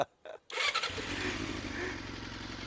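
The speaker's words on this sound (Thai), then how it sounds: "อ่ะฟังเสียงท่อดู" A Honda CB1 400cc motorcycle engine fires up after a brief pause, then settles into a loud, close, steady exhaust rumble with a rapid pulsing beat.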